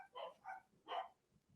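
Dogs barking in a few sharp, separated bursts, fairly faint and at a middle distance, followed by softer low sounds, with no talk.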